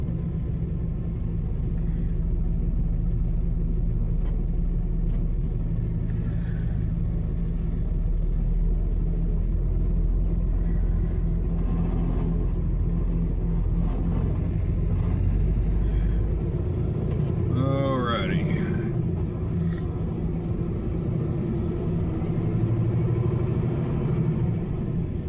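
A heavy truck's engine rumbles steadily and loud throughout, a deep idling drone that shifts slightly as the rig begins to roll out from a row of parked trucks.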